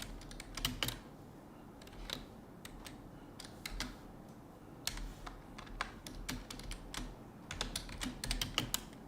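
Typing C code on a computer keyboard: quiet, close key clicks arriving in irregular bursts and pauses, with occasional louder keystrokes over a low steady hum.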